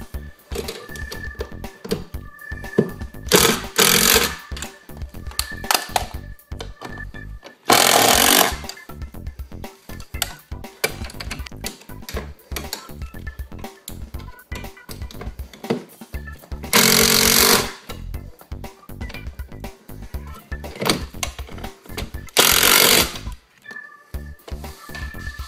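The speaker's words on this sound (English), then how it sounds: "simply tighten the screws." Screws are tightened by hand on a homemade folding laptop shelf, giving a run of close, rapid ratcheting clicks and short whirring bursts repeated in several spells, with no talk over them.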